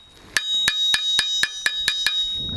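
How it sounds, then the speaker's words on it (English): Regular hammer blows on hot metal during forging, shaping a teardrop form: eight bright, ringing strikes in a steady rhythm, close and fairly loud, with the last ones trailing off into a brief rustle. "come back here and hammering around, creating a nice little teardrop shape"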